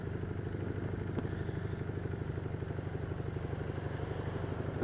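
A motorcycle engine drones steadily at a low, even pulse while riding in light rain, heard continuously and close with no speech, ending in a short bump of noise.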